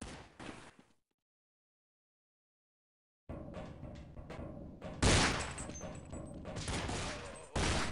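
Gunfire in a multiplayer video game: a quick burst of shots, a few seconds of silence, then a run of loud, rapid reports, some louder than others, crackling in close succession.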